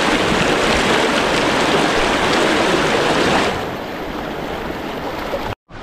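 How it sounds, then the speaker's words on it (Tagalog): Rain falls outdoors as a loud, dense, steady hiss that drops to a softer level partway through, then cuts out briefly near the end, with no voices. "Umuulan na."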